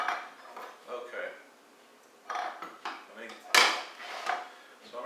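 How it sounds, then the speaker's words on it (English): Dirty rice stirred in a pot after four hours of cooking, with a spoon scraping and knocking against the pot in several short bursts and one sharper clatter, close by. "So I'm going to give this a stir."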